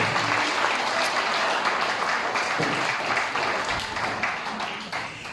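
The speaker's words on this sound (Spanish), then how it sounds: "Denle un aplauso fuerte" Loud, steady applause from a church congregation during worship, many hands clapping in a continuous dense patter that fades slightly toward the end.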